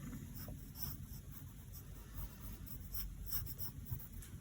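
Pencil or pen sketching a teapot on a sketchbook page, giving soft, close scratching strokes that come in short, irregular bursts over quiet room noise.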